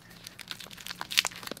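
Plastic wrap being cut and peeled off a sticky resin and ice sculpture, giving a run of soft crinkling and tearing sounds that builds to a sharper crackle midway, close up with no talking.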